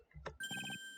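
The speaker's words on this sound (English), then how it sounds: "Sorry, that's my phone." A phone ringtone goes off during play of the video game Phoenix Wright: Ace Attorney, a bright electronic melody with a steady high tone and pulsing notes, loud and alone after a brief game sound.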